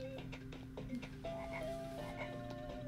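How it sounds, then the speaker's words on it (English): Frog enemies in the Lion King video game croak in quick repeated bursts over steady game music and tones, fairly quiet, with no talking. "Those frogs are probably one of my favorite enemies now"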